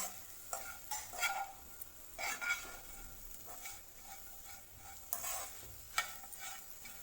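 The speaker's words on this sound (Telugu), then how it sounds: "నేను ముక్కలన్నింటికి ఉప్పు కారం అంటుకునేటట్టు నేను మిక్స్ చేస్తున్నానండి." Taro root pieces tossed with salt and chili powder in a pan, a quiet sizzle broken by repeated scraping stir strokes in an uneven rhythm, close but faint, with no talking.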